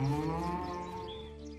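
A cow gives a single long, drawn-out moo that slowly falls in pitch, close and clear with no other sounds around it.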